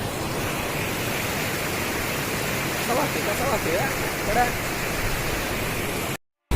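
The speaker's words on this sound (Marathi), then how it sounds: "इकडं पाणी चाललंय वड्याला" Heavy rush of floodwater after record rainfall flowing toward a stream, a steady broadband roar filling the whole clip before cutting out at the end.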